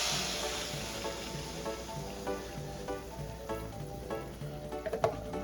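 A 28-ounce can of crushed tomatoes poured into an oiled pan of mixed ingredients for homemade calzone filling, giving a steady close sizzle with soft stirring scrapes and a few sharper pops near the end, no voices.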